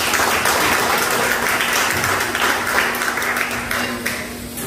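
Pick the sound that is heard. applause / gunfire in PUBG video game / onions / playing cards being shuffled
applause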